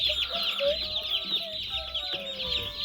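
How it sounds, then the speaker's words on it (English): A flock of young turkeys chirps and peeps continuously up close, high calls overlapping with occasional lower clucks. "These are the turkeys."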